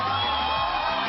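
A Kenyan comedy talk-show audience cheers and whoops in a brief, dense burst of crowd noise, fairly loud and continuous, with a voice faintly mixed in.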